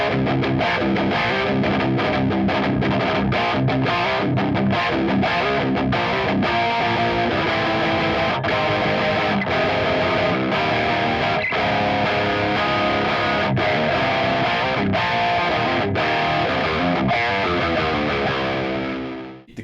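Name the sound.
electric guitar through Valeton OD-10 overdrive pedal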